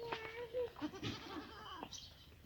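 A native Indian goat bleats several times on a small farm, short wavering calls at moderate distance, with a person speaking faintly underneath.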